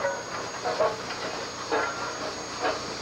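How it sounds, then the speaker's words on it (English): A helper steam locomotive turns on the wye at Galt on the Toronto–London main line, giving faint, distant rhythmic chuffs with a steady hiss beneath. "This is one of the helper engines turning on the Y at Galt."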